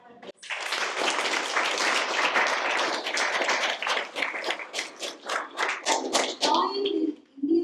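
An audience at a motivational talk claps, starting in a dense burst and loosening into separate, uneven claps that die away toward the end, with a few faint voices underneath.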